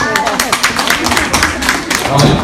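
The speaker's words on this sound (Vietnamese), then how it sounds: "hãy vỗ tay" Several people clapping hands during an acupressure therapy session, uneven quick claps close by, mixed with voices talking.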